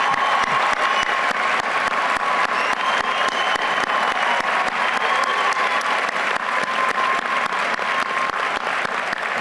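A university commencement crowd gives loud, sustained applause for an honoree. Dense clapping fills the hall evenly throughout, with no talk.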